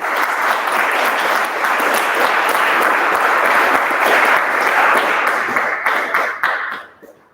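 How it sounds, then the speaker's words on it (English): A large audience applauds loudly in a steady, dense wash of clapping that holds for several seconds, then quickly fades out at the end. "So before we have a huge applause."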